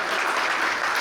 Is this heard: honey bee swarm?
no